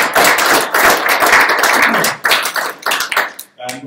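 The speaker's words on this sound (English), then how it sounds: "Just another round of applause." Meetup audience applauding the speakers after a talk on GDPR, a dense burst of clapping for about two seconds, then quieter scattered claps that trail off.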